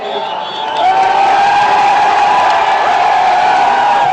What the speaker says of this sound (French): un couplet de l'hymne national chanté a cappella par la foule